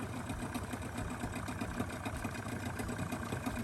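A 1989 East German powerboat motor runs steadily at a close, even idle, with a constant low rumble and no other sounds over it.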